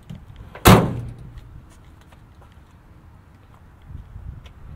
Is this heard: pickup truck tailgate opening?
yes